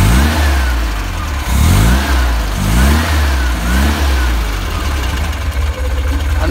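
Air-cooled VW engine with electronic ignition running steadily after a distributor timing adjustment, a loud close idle with a deep rumble and a few brief rises in revs.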